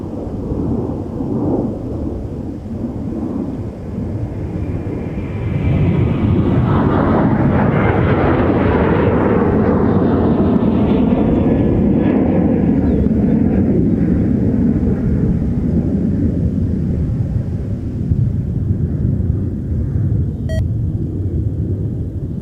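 An American jet airliner departs runway 30 left at MSP at night, a loud, rising roar that swells over several seconds and holds as a broad, sustained rumble.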